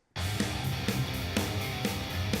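A programmed EZDrummer beat plays with guitars, loud and dense, with a sustained guitar bed under steady, evenly spaced drum hits and cymbals.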